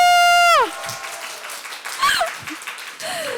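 Audience clapping at Outerplane's first official Korean user meetup, a steady wash of applause that swells after a sustained tone cuts off, with brief cheers rising through it.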